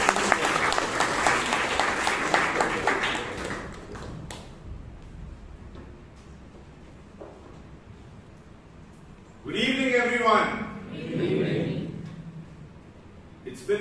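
Applause from a Toastmasters meeting audience in Bangalore for the general evaluator, steady clapping for about four seconds that fades out, then a quiet stretch before talking begins.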